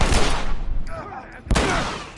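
Gunfire in the video game The Last of Us, two loud blasts about a second apart with echoing tails, over rumbling game sound and a voice.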